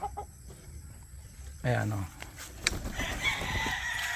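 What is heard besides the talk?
five-month-old chicken clucking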